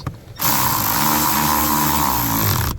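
A power driver whirs steadily and loudly for about two seconds, running screws back into the blower motor housing of a 2015 Toyota Tacoma, starting and stopping abruptly with no pause between.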